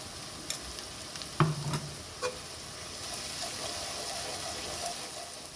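Oil with asafoetida, cumin and onion sizzles in a pan for a mustard greens dish, a steady faint crackle under a few close knocks and stirring clatters near the start.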